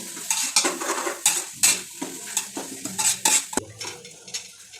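A spoon stirs ginger garlic paste with onions in a pan for chicken biryani, giving repeated loud metallic scrapes and clanks in an uneven rhythm over a soft sizzle, close by and without speech.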